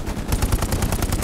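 Rapid machine gun fire from a World War II shooter, Hell Let Loose: a dense, loud burst of evenly spaced shots rattling continuously, close by and without talk.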